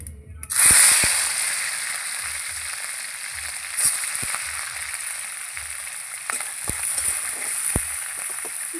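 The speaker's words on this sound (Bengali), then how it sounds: "তেল গরম হয়ে গেছে, আমি এবার চিংড়ি মাছগুলো দিয়ে দেবো।" Prawns hit hot oil in a pan with a sharp burst of sizzling that settles into a steady, loud frying hiss, with a few clicks and stirring knocks along the way and no voices.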